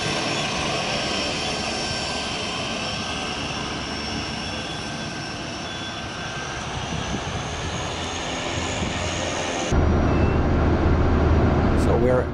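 A Pilatus PC-12 NGX amphibian turbine engine drones steadily in a loud, continuous whine and rumble heard from inside the cockpit, shifting to a heavier roar near the end.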